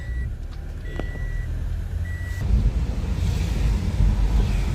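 Steady, roaring typhoon wind buffets the microphone along a highway, rising into heavier gusts partway through, with a faint intermittent electronic beep early on.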